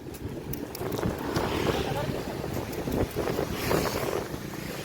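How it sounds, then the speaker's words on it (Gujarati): Strong wind buffets the microphone nonstop during a road trip toward a bus depot, a heavy, rumbling roar with gusty swells and no clear pauses. "જોરદાર પવન છે, જોરદાર."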